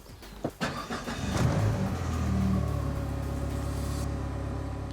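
Car engine cranking with an AsperX AX4500 jump starter on a nearly dead battery: a few brief turnover bursts, then the engine catches and settles into a loud, steady idle rumble close by.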